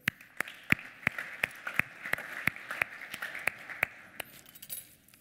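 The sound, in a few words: audience applause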